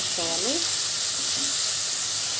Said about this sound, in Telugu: మూత పెట్టుకున్న విధంగా మిక్స్ చేసుకుంటూ మగ్గించుకోవాలి